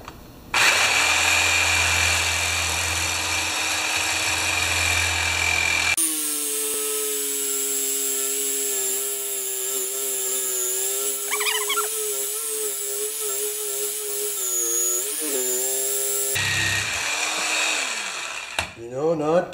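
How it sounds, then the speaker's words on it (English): A piece clamped in a vise during axe handle work is cut off, first with a loud broadband grinding roar, then a steady whining tone that wavers in pitch for about ten seconds before the rougher cutting noise returns. "I'm going to cut this off in the vise."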